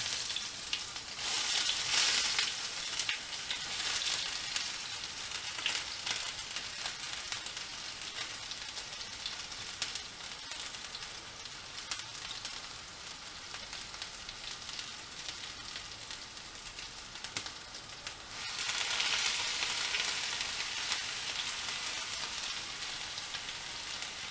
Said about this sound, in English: fry off the onions and the beef